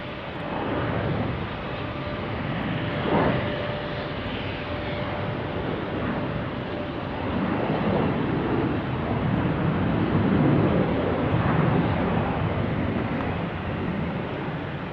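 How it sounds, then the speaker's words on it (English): An Airbus A321 departs Salt Lake City airport, a broad steady jet roar heard from a distance outdoors, swelling slightly toward the end with some wind buffeting and no voices. "Here's a A321 Airbus departing"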